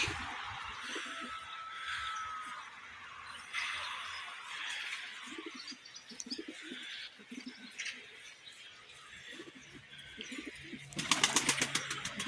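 Pigeons coo softly and repeatedly nearby, with faint chirps and light rustling, ending in a burst of sharper clattering.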